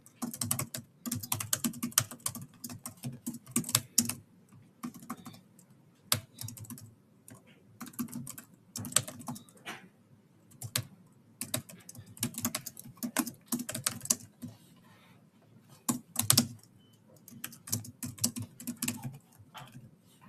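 Rapid typing on a computer keyboard while coding, with bursts of dense clicking keystrokes separated by short pauses, close and continuous for a long stretch.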